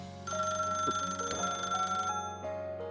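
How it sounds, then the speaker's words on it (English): Telephone bell ringing in a continuous burst, moderately loud and fairly close, then cutting off into a quieter tail with no voices. "The phone rang just then."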